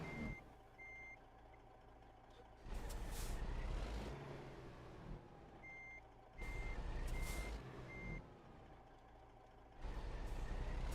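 Reversing alarm of a truck backing up in American Truck Simulator, steady repeating beeps alongside bursts of loud engine roar and air brake hiss that rise and fall several times, no talking.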